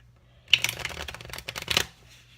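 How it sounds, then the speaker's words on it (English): A new, straight-out-of-the-box deck of playing cards is riffle-shuffled up close, giving two bursts of crisp, rapid fluttering clicks over about a second and a half, with quiet before and after. "So you can actually give the cards the spectator to shuffle."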